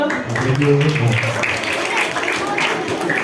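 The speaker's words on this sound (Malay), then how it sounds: "Bagi tepuk tangan pada dia." Children at a primary school anti-bullying talk applaud together, a steady wash of clapping mixed with voices and a speaking voice early on, fairly loud and continuous throughout.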